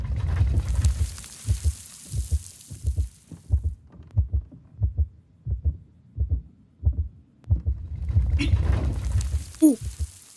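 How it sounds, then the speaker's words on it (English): Steady low heartbeat pulses from the horror video game One Eyed Likho, based on a Slavic fairytale, thumping in an even rhythm over a faint hum, with brief movement sounds near the end. "I like how much I can hear my heartbeat, though."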